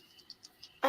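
Crickets chirping faintly in short, evenly spaced pulses, ending in a sudden louder noise.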